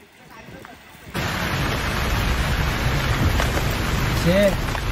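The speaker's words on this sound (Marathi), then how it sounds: "संदूक बंद करायचा का पाऊस पडतोय" Steady rain suddenly begins pouring loudly after a quieter start, a dense hiss that continues without pause, with brief voices near the end.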